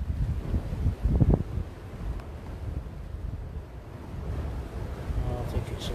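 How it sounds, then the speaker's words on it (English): Big ocean waves break and surge under gusting wind, a continuous rough wash with a louder swell around the first second and wind buffeting the microphone throughout. "there's some big waves out there"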